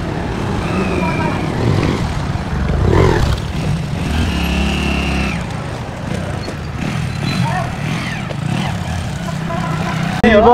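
A motorcycle being ridden gives a steady, rough engine drone mixed with road and wind rumble that lasts the whole stretch, loud and close, with voices faintly mixed in.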